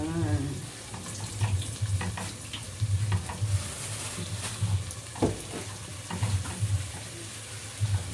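Chicken liver and gizzards frying in a pan for creamy sopas, a steady sizzle with repeated stirring and scraping strokes, close and moderately loud, with no talking.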